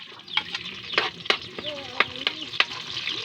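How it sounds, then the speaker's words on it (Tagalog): Garlic frying in oil in a pan, a soft steady sizzle broken by sharp scraping clicks as a utensil stirs it, with a voice speaking faintly in the background. "Yan, lagyan natin ng bawang."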